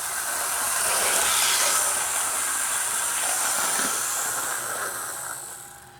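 Athearn Burlington Northern second-generation model locomotive, number 3042, coasting along track with a steady hissing, whirring roll that swells early, holds, then fades away near the end.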